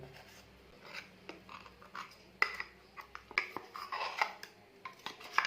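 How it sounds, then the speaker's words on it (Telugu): Ragi batter is scraped out of a mixer jar into a bowl, producing a run of close, sharp clicks and scrapes of a spoon against the jar and rim, irregular and fairly quiet. "ఈ పిండిని వేరే బౌల్లోకి తీసుకోవాలి"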